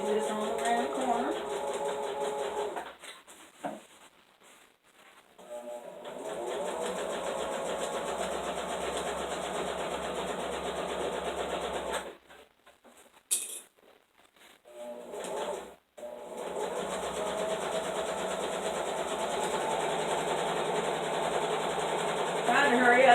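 A home sewing machine stitching, with long steady runs of fast mechanical whirring broken by a few short pauses, close by and moderately loud, and someone talking over it at times.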